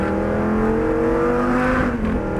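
A Lamborghini engine roars steadily at full throttle, its pitch climbing and holding loud and close, with no voices over it.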